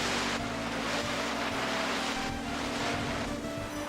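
A jet ski in the video game Wave Race 64 rushes and splashes across water with a loud, continuous wash of spray and engine noise, swelling in slight surges throughout.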